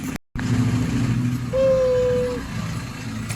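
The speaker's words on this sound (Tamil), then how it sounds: "பயங்கர டிராஃபிக்காக போயிருக்கு" Heavy early-morning road traffic in Thailand gives a steady near rumble of engines, with a brief drop to silence near the start and a thin tonal whine partway through.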